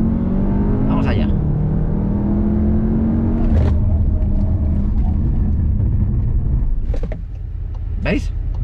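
Close, loud interior sound of a Cupra Leon 2.0 TSI in Sport mode pulling away hard under launch control, engine note rising through a sustained run with short shift breaks, people talking over it.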